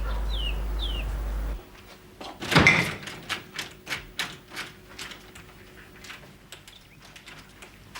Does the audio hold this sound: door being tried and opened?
yes